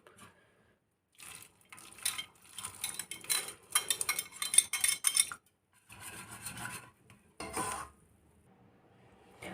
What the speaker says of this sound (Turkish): Ardından kaynamış, önceden kaynatmış olduğum buğdayları içerisine atıyorum.